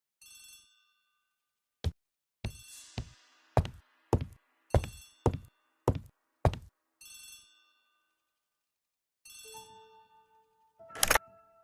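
An old-fashioned telephone in a hallway rings in a run of short, sharp bell bursts at a steady pace, then falls quiet before a final clatter as it is picked up, crisp and close in an otherwise silent room.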